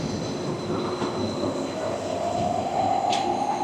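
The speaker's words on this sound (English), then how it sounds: "Here comes the monorail." The Disneyland monorail passes nearby as a steady, loud rolling rumble with a rising whine from the wheels and motors, heard without talk.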